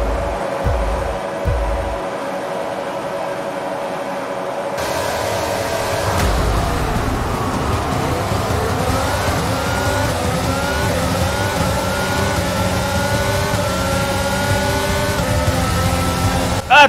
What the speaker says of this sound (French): je vous laisse avec le son du départ